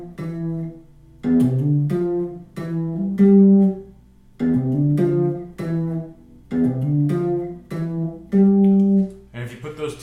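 An electric guitar plays a riff, clean plucked notes grouped in repeating phrases separated by short pauses, close and alone without talk.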